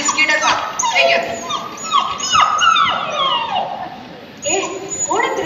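Stray street dogs whimper and whine in drawn-out, wavering cries, close and fairly loud, as they are fed biscuits during a staged school drama performance, with people talking over them.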